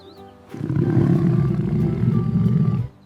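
One sustained lion roar, low and gravelly, rises quickly and holds for over two seconds before cutting off, loud and close with nothing else around it.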